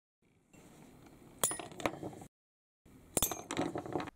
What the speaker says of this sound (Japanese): 傷を入れたらカットします。